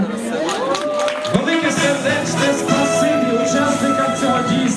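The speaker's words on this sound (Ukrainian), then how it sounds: "Давайте подаруємо всім оплески." Concert audience applauding and cheering at a Ukrainian charity event, a dense steady wash of clapping and crowd noise that fills the whole stretch, with tonal music or voices running underneath.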